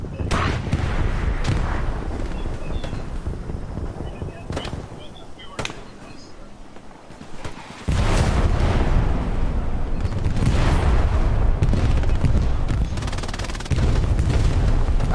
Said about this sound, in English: now I can launch these grenades without being seen for real